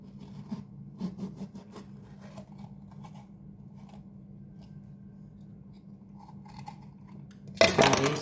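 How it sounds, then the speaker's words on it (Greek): A knife cuts the stem off a pepper being prepared for stuffing, giving a few soft scattered crunching snips over a low background hum, with a louder burst of handling noise at the end. "Το κόβουμε δηλαδή το κοτσάνι."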